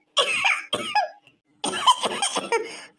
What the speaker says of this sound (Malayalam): എനിക്ക് വല്ലാണ്ട് ചുമക്കുന്നുണ്ട്